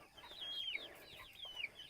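Chickens clucking and chirping in short, high, bending calls, moderately close with no talk.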